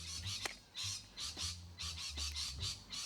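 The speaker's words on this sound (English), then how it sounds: "So as of right now, there's some annoying birds" Birds call outdoors in a string of harsh, squawking bursts, repeated roughly every half second to second, moderately near over a quiet background, with no talking.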